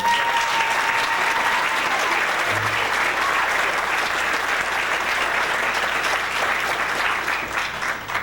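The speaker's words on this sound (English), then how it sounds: "Give her a round of applause." An audience breaks into sustained applause as a guest is welcomed onto the stage, a dense, loud wash of clapping that holds steady for several seconds before easing slightly at the end.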